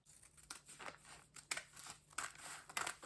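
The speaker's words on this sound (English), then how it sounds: "Next thing is to cut it out first." Scissors cutting out blouse fabric, several close, crisp snips with rustling cloth between them, quiet and alone.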